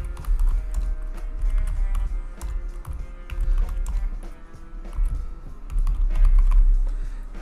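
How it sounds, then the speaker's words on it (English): Typing on a computer keyboard while entering a WordPress post title, a close, continuous patter of quick key taps with uneven rhythm and no talk over it. "So go to Slug once again and type your post title."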